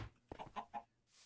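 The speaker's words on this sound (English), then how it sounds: "we've got a few chickens in here that are grown up" Chickens cluck in the Minecraft GregTech New Horizons modpack, a short run of four or five clucks close by, with no talk over them.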